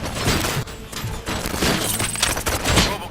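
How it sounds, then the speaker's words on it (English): Gunfire in the video game RoboCop: Rogue City, a loud, dense fusillade of rapid shots and heavy thuds crowding the whole stretch, with no talking. "Gunshots? What's going on?"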